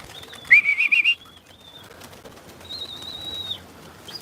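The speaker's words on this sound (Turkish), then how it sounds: "mücadele veriyor kuşları kaldırmak için" Pigeons are flushed from a rooftop: a burst of wing flapping and fluttering rises briefly, followed by faint thin calls and quieter outdoor ambience.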